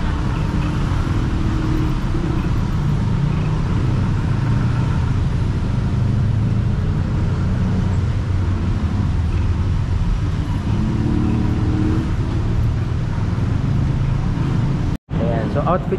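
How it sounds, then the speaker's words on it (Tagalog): Morning road traffic on a busy Bangkok street: a steady, close engine rumble of cars and buses forms a dense continuous wash, with voices talking over it. "Morning na morning talaga dito sa Bangkok, no? Traffic agad."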